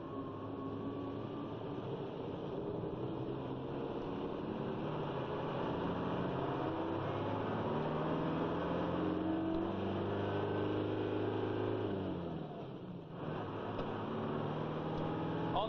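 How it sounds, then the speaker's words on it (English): A 1970s Mercedes 1617 truck labours uphill under steady engine load, its low drone and rising whine continuous and fairly close throughout, with no talk. "this vehicle is claimed to be able to climb a 1 in 4 gradient with ease"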